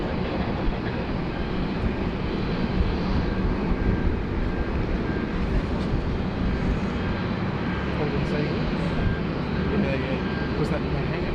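A Qantas Boeing 747-400 departs Sydney Airport for Hong Kong, its engines a loud, steady broadband roar that holds unbroken throughout.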